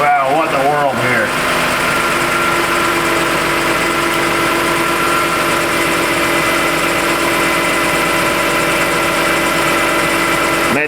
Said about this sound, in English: So climate control's kicking on here, AC compressor's kicking on.